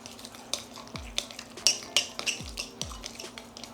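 Utensil stirring a mixture with rice vinegar and brown sugar in a bowl, a few soft scraping swirls and light clinks of metal against the dish, close and quiet with steady background hum.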